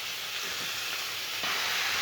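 Broccoli, potato and peas fry in oil in a home kitchen pan, a steady broadband sizzle and hiss that swells louder as more pieces drop in partway through.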